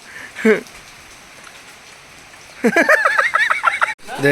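Steady rain falls outdoors, a loud, close, even hiss throughout, with a short call near the start and a run of fowl-like cries near the end.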